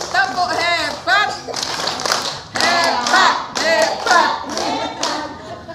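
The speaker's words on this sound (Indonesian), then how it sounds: "Tepuk hebat." A group claps together in a patterned rhythmic cheer during a prenatal class for expectant mothers, several bursts of hand claps mixed with voices chanting along.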